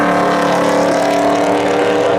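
Race cars launch hard at Seekonk Speedway spectator drags, a loud, sustained engine roar held at high revs close by for the whole stretch, with no talking.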